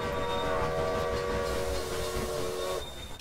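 Trains in the Railway Empire railroad strategy game sound faintly at a distance, with a steady rolling rumble, a hiss of steam and a sustained whistle tone that fades near the end, without talking.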